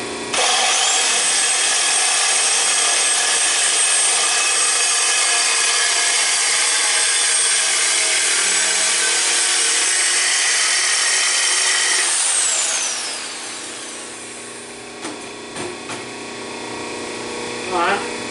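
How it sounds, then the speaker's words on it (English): A header pipe for a 1962 Mercury Comet with a 460 cubic inch engine is cut to length with a power saw, giving a loud continuous grinding whine for about twelve seconds that winds down, followed by a few faint clanks. "Go ahead and cut some length off of this."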